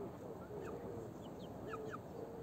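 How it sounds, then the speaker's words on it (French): Chicks peeping: thin, short rising chirps that come now and then, faint beneath a steady noisy background. "Bon, oui, les poussins."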